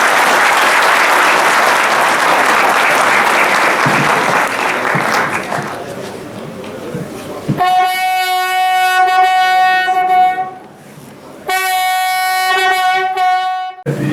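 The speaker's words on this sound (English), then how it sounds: "A round of applause for him, please." A conference audience breaks into applause that fills the first several seconds, then gives way to sustained bright electronic tones that cut in and out, a hall sound system or chime rather than clapping.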